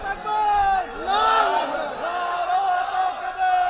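A large crowd at an outdoor Islamic sermon chants the takbir response in unison, loud, sustained massed voices rising and falling over several seconds.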